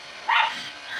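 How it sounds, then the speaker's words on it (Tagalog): A dog gives one short, fairly distant bark or yip over steady background noise in a home where a house is being built nearby. "yung aso namin, maingay din"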